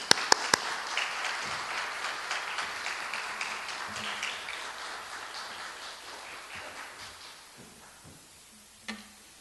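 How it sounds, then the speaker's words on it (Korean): A church congregation claps for the pastor as he comes forward: a few sharp claps open into a steady, broad round of applause that gradually thins and fades, ending with a brief thump. "나오실 때 우리 잠깐 박수 한번 해주시기 바랍니다."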